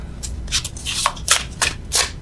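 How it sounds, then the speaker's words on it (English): Tarot cards are shuffled by hand in a loose overhand style, giving a series of soft papery swishes and slaps at an irregular pace over a low background hum, close up and with no talking. "Normally I riffle shuffle, but I don't feel like it."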